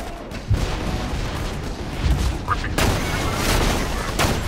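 Repeated booming shots and bursts of gunfire from an enemy in the video game Borderlands 2, dull and fairly distant, under a constant rumbling background.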